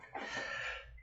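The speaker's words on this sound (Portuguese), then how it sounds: "Desculpe aí, gente, da tosse" A single short, harsh cough from a hoarse teacher with a sore throat, fairly quiet and alone, lasting under a second.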